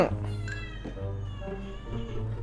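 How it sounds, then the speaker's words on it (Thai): A pet cat meows loudly and repeatedly, close by, in a drawn-out, insistent call heard over a low background hum. "แมวผมร้องใหญ่เลย"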